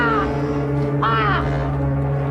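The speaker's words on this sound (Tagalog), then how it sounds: "mao gihapon ang uwak nga imong makita ug mabatian" A crow caws in a horror audio drama setting, giving two harsh calls: a brief one at the start, then a longer, louder caw about a second later. A low, steady drone runs underneath.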